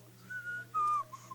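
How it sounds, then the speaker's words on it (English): A person whistles a short, thin tune of a few sliding notes close to the microphone over a low steady hum, with the loudest note held in the middle. "Oh, it's me whistling."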